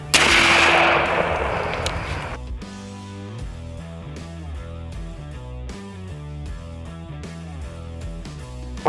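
An AEA Zeus 12 air-powered shotgun fires once, a loud, sharp blast with a hissing rush that fades over about two seconds, followed by rhythmic background music.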